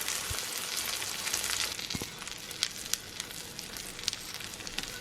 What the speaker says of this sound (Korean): 약한 불에 구워주세요. 센 불에는 달걀이 탄답니다.